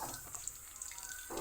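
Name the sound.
pouring coconut cream into cooking jackfruit vegetables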